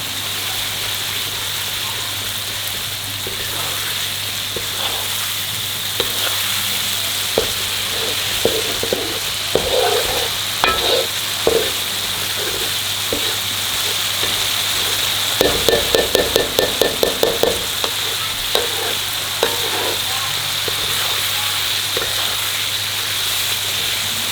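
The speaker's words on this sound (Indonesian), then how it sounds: "Tumis sampai wangi." Spices sautéing in a pan for Padang-style kikil gulai, a steady close sizzle throughout with scattered stirring clicks and a brief burst of rapid scraping taps midway, no talking.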